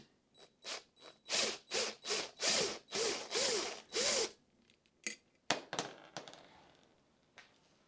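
A hand ratchet being worked on an Abarth engine cylinder head gives a run of quick, close mechanical clicks that build into several loud buzzing bursts, then thin out into scattered single clicks.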